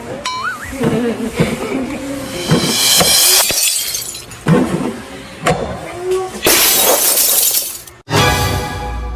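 A glass bottle falls and shatters in a staged drama scene, with loud bursts of breaking glass and scattered tinkling shards, while people exclaim and talk around it.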